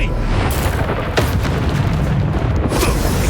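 A Bombarda spell explosion in Hogwarts Legacy: loud continuous booming blasts with sharp bursts layered over a dense rumble.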